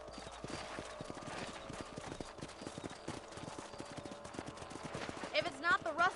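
A horse gallops in the Western video game Red Dead Redemption, its rapid, rhythmic hoofbeats running steadily throughout at moderate loudness. Voices speak near the end over the hooves.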